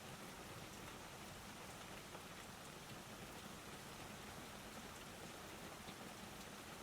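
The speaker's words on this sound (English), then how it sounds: "The sound of rain deepened slightly, a soft swell as the wind shifted outside." Steady rain patters on a greenhouse roof, a dense, even hiss of drops with no pauses, soft and continuous throughout.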